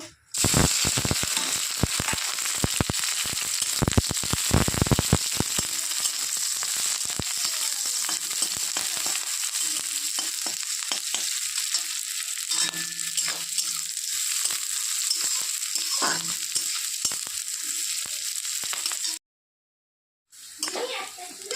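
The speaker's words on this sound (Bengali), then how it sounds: "তো পেঁয়াজ রসুন লঙ্কা ভাজা হয়ে গেছে" Onion, garlic and green chillies fry in hot oil for a masoor dal with jute leaves, giving a loud, steady sizzle with clattering stirs early on that continues until a sudden brief cut near the end.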